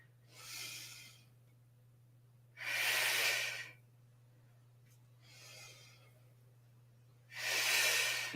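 Slow, deliberate breaths during a pilates exercise, close and soft, alternating inhales and exhales in four separate breathy swells with quiet pauses between.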